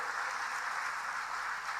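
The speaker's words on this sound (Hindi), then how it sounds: "जोरदार ताली बजाइए" A large audience at a government launch event in Bhopal claps continuously, a dense, even wash of applause heard at a moderate distance, with no talk over it.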